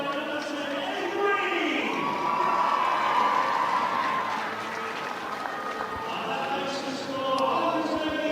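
A rugby crowd at a Harlequins women's match against Loughborough Lightning roars and cheers a try, a broad sustained swell of voices with shouts rising above it while a commentator talks over the noise.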